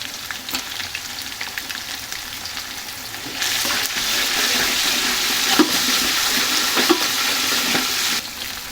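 Whole spices such as cardamom and cinnamon with ginger-garlic paste sizzle in hot oil for biryani. A steady background fry swells into a louder, brighter hiss partway through, with a few spoon clinks, then eases back.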